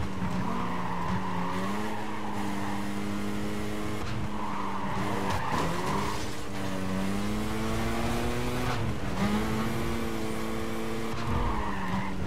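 A racing car in Need For Speed: Carbon skids with long tire squeals over a loud, constant engine roar, its pitch sliding as it slows and hits a wall.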